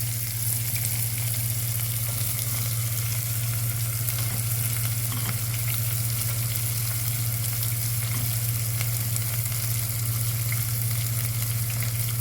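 Sliced onions, finely cut, fry in a pan for an aloo bhuna potato curry, giving a steady, dense sizzle over a constant low hum that holds evenly throughout with no talk.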